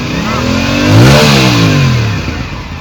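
A naked motorcycle based on the RS457 revs once up and back down, a close, loud engine note swelling to a peak and easing off over a few seconds.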